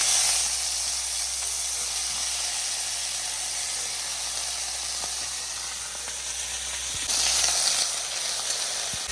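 Plantain curry sizzles steadily in hot oil with mustard seeds and chili, a close, continuous frying hiss that swells briefly louder near the end, with no voices.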